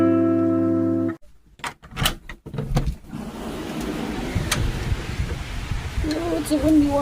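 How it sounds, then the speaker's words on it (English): Strong wind blows outdoors, buffeting and rumbling at the microphone after a short opening tone. The wind is loud and gusty, broken by a few sharp knocks, and a faint voice comes through near the end. "Oh, it's a windy one."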